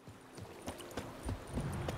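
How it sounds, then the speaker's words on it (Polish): Horse hooves clip-clopping at a gallop in The Witcher 3: Blood and Wine, a quick rhythmic series of soft thuds, fairly faint and distant. "I koń padnie od ciągłego galopu"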